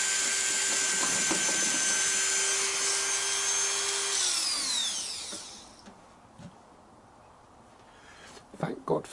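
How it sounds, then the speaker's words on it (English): A Dremel rotary tool grinding a nut on a Yamaha XJ900S motorcycle, a loud high whine for about four seconds that winds down, then quiet with a few clinks and handling noises. "Now I'm going to have to get the Dremel on the nut so we can get the socket on."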